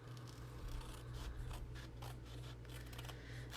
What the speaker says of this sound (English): I'm going to cut away the corners